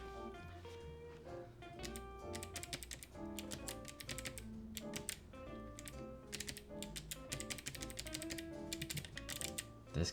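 Rapid typing on a faulty computer keyboard, with dense, continuous clacking keystrokes over a low background hum, fairly close and without speech.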